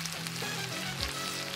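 Pineapple kebab skewers brushed with honey-mustard marinade fry in a pan over moderate heat, giving a steady close sizzle throughout with no talking.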